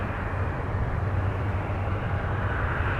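A steady, loud jet engine roar and rumble from an Airbus A330-900neo starting up during pushback at Minneapolis–Saint Paul airport, continuous and unbroken throughout.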